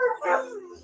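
A misbehaving dog gives a short, faint bark or yip in the background of a quiet room, heard once and brief.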